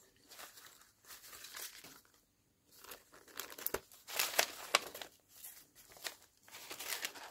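Cellophane bags holding acetate and banner craft supplies crinkle and rustle in short, close bursts separated by brief pauses, with sharper crackling peaks midway through.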